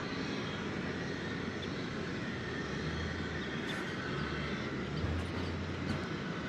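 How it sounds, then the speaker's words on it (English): Martin Air Cessna 208 Grand Caravan taking off at DFW Airport, a steady broad engine roar with a low drone, fairly loud and continuous throughout, with no voices. "There goes, what is that? Martin Air, Cessna 208 Grand Caravan."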